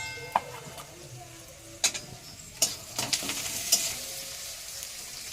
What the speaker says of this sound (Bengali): হ্যাঁ, শাক ভাজা হচ্ছে।